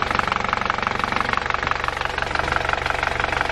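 Volkswagen MK7 Golf R engine idling with a noticeable vibration from a broken spool valve, heard up close as a steady, rhythmic knocking thrum with no voices.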